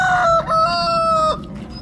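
A rooster crowing inside a large chicken coop, one loud, close cock-a-doodle-doo call with a strained, warbling pitch that cuts off and trails into quieter background clucking.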